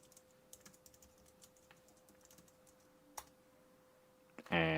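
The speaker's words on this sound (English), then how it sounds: "Nobody look at what I'm typing." Someone types on a computer keyboard, producing faint, irregular clicks over a steady low hum, with a sharper keystroke partway through and a louder burst of noise at the very end.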